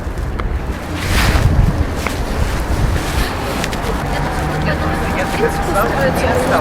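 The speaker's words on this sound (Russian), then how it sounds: "здесь вот без остановки проплывают одна за другой лодки" Boats pass one after another along a canal near the Church of the Savior on Spilled Blood, a steady engine and water wash under gusty wind noise, with people talking close by throughout.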